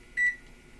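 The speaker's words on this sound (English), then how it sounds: "you're going to want to stick your veggies into the microwave" Microwave oven being set and started for defrosting vegetables, a single short electronic beep standing alone against a quiet room.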